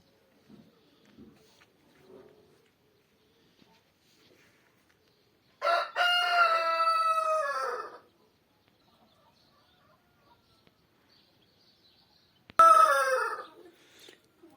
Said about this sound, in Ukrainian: Горланить півень.